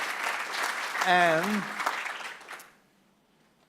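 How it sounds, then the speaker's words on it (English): An audience applauds at a university ceremony honouring a guest, a broadband wash of clapping for about two and a half seconds that fades out, with a brief spoken word rising over it midway. "please join me in an applause to give him thanks."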